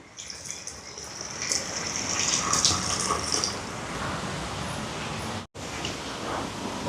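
First-extract coconut milk is poured into payasam being cooked for an almsgiving meal in Sri Lanka, giving a continuous close gushing, splashing pour with a brief break near the end.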